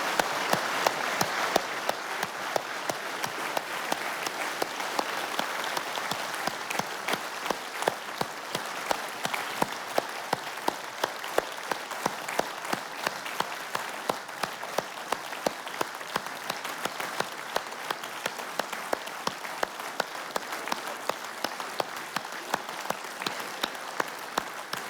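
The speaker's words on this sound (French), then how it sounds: "Si vous voulez bien les applaudir chaleureusement pour leur donner du courage." A theatre audience applauds a group of young municipal council members at a mayor's New Year ceremony in Val-de-Reuil, a steady, dense wash of clapping that holds for the whole stretch.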